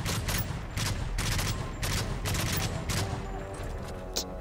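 A gun fires in rapid, punchy bursts in the video game Modern Warfare 3, during a Spec Ops mission. The volleys are loud and close, separated by short gaps.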